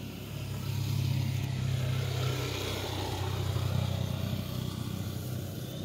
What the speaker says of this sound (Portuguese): Tá na rua, pessoal, então é moto passando